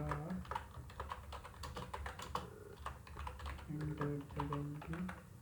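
Code being typed on a computer keyboard, heard as a fast run of close key clicks and taps with brief pauses, while a voice speaks faintly underneath.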